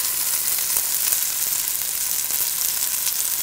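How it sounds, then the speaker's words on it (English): An eye of round roast sears fat side down in a hot pan, giving a loud, steady, close sizzle and hiss that runs unbroken throughout with no talking. "I'm going to place it fat side down first to get a nice sear on all sides of"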